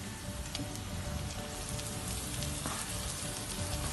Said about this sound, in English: Let's put the ground beef.